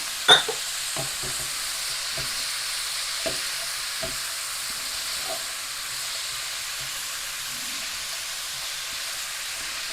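Turkey, butter bean and leek soup cooking down in a pan gives a steady close sizzle and hiss, with a few light stirring clicks near the start.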